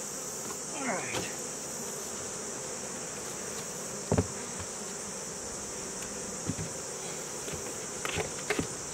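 Honey bees buzzing around hive boxes while honey supers are pulled, a steady close insect drone with occasional knocks and thuds of wooden boxes and lids.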